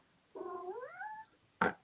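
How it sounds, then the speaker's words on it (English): A cat gives a drawn-out, rising and falling meow that wavers for about a second, then a short sharp noise follows, quiet and fairly close, with no talking. "It was a cat."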